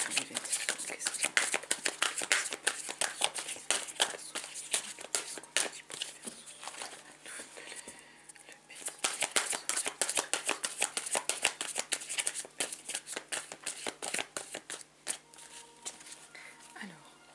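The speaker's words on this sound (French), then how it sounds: "Je voudrais prendre le Béline." Tarot cards are shuffled for a long stretch, a dense run of close, crisp riffling and slapping card noises with a brief lull midway, and a voice talks quietly underneath.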